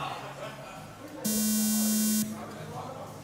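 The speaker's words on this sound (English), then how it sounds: "Do not listen to the buzzer. Disregard the buzzer." A loud electronic buzzer sounds once at a race start, a single sustained tone of about one second that cuts in and out sharply over background chatter.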